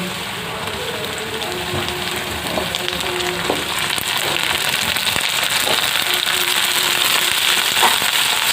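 Cauliflower frying in a pan for a Bengali mixed vegetable dish, a dense steady sizzle and crackle with occasional scraping stirs, close and moderately loud.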